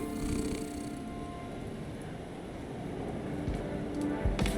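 A cat purrs after being petted in the Mato Anomalies video game, a soft continuous low rumble that stays steady and quiet throughout.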